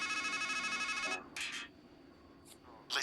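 A payphone in the Strangeland video game rings with a steady electronic trill that cuts off after about a second, followed by a few short sound-effect bursts and quiet room tone.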